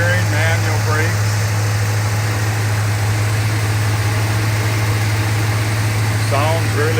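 1967 Oldsmobile Cutlass Supreme convertible with a 330 Jetfire V8 idling, a steady low rumble running throughout while people talk briefly over it.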